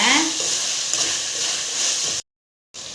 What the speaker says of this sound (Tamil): இப்போ நான் ரெண்டு தக்காளி பழம் கட் பண்ணி வச்சுருக்கேன் அதையும் போட்டுக்கலாம் நல்லா குழைவாக வதக்கி விடுங்க